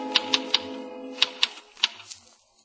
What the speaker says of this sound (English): For a somber moment, he stares at the wall, then hunches over the typewriter again.